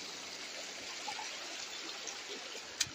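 River water flows steadily as a broad, close rushing stream during a crossing on foot in Jalisco, Mexico, with a faint click near the end and no talk.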